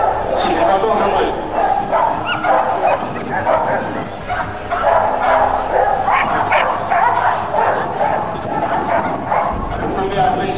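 A Bouvier des Flandres, a powerful, compact herding dog, barks repeatedly in loud bursts mixed with yips and whimpers, while someone speaks in French nearby.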